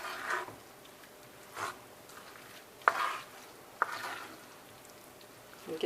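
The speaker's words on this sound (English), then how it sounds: "now I'm just going to stir it up really well" A spoon stirs a thick eggplant filling mixed with breadcrumbs and egg in a bowl, making several soft, wet scraping strokes a second or so apart, quiet and close with no talking.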